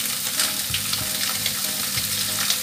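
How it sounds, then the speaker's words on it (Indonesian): Chili, garlic and ginger sizzle loudly in a pan during stir-frying for sapo tofu, a constant close crackling hiss with occasional scraping stirs. "Lalu bawang bombay, kita tumis sampai harum ya."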